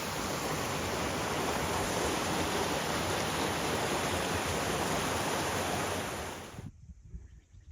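Steady rushing water of Bear Creek flows continuously, a dense broad roar, close and loud, cutting off abruptly near the end.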